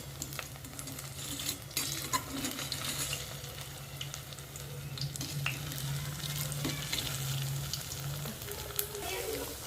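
Leftover-rice fritters frying crisp in oil in a pan, a continuous close crackling sizzle with occasional clinks and scrapes as they are turned.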